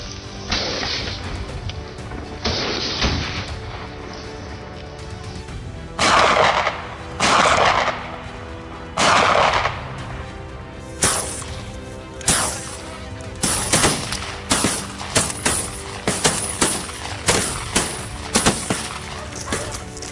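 Loud, close gunshots ring out while hunting a wild boar: several sharp blasts spaced apart, then a rapid run of quicker cracks and bangs.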